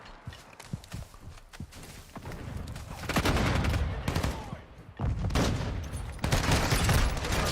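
Rapid pistol fire from Call of Duty: Modern Warfare 2 rings out in loud bursts over continuous game noise, with scattered single shots early on and denser volleys later.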